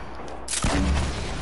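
Grenade launcher fired in a video game: a sharp launch burst, then a heavy, rumbling boom that sustains and decays, loud and close with no talk over it.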